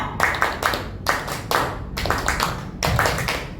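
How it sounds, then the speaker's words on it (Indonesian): Adults in a teachers' session clap in crisp rhythmic groups, several quick claps each, repeated in a steady game pattern with short pauses between. "Tepuk tangan"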